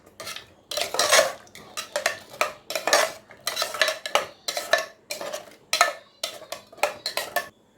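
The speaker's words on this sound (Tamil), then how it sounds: "நம்ம கட் பண்ணி வச்சுருக்க உருளைக்கிழங்கு எல்லாத்தையும் கலந்துக்கலாம்" Cut potatoes being mixed into gravy in a pan: about a dozen distinct bursts of spoon scraping and clattering against the metal pan in a steady back-and-forth rhythm, close and loud with quiet gaps between strokes and a faint sizzle beneath.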